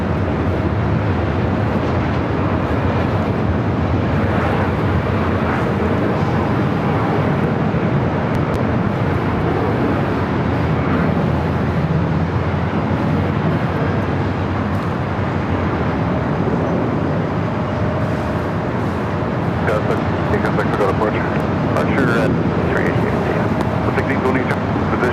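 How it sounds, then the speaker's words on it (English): A 28-year-old Delta Airlines Boeing 757-200 on flight 631 to Mexico City takes off at LAX, a constant broad jet rumble with wind buffeting, while people talk over it. "757-200 up next for takeoff."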